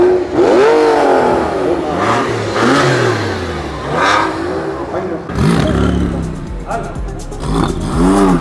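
A Porsche 997 GT2 in a Porsche parade event revs its engine loudly while passing close by, rising and falling in pitch, with a voice talking over it.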